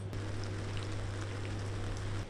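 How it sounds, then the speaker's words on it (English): Steady rain falling in Chamonix, a dense continuous patter with a low constant hum underneath, no voices. "More rain."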